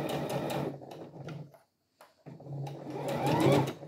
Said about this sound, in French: Vous adaptez bien sûr la vitesse de couture en fonction de votre aisance derrière la machine à coudre.